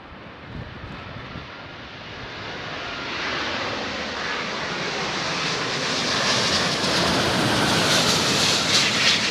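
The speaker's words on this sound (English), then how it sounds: "This Airbus undergoes a rough landing, following an encounter with a negative wind shear." An Airbus airliner comes in for a rough landing after hitting negative wind shear, its engines a broad, steady roar that swells gradually louder over about nine seconds, with no voices.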